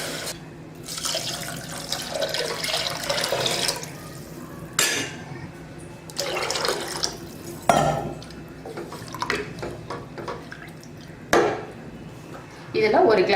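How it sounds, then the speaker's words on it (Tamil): Water poured into a pot of soaked rice, lentils and fenugreek with coriander and mint, several splashing pours separated by short pauses and clinks, fairly close. "அதுக்கு இதில் 1 செம்பு தண்ணி ஊற்றிருக்கேன்."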